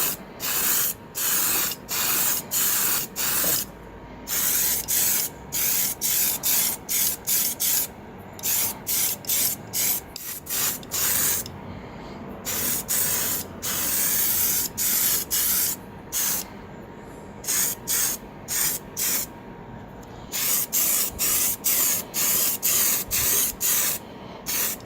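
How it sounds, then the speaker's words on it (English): A can of Tamiya surface primer sprays in many short hissing bursts with brief pauses between them, close and loud, kept up in a steady on-off rhythm while a model Huey helicopter is primed in a garage. "I'm using Tamiya's surface primer."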